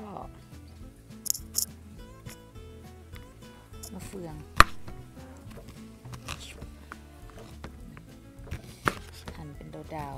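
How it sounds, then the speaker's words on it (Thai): Knife chopping fresh fruit, including star fruit, into bite-size pieces on a board for a Thai mixed fruit salad, with soft irregular cuts and a few sharper knocks under someone talking nearby. "จะหั่นให้มันเป็นชิ้นพอคำนะคะ"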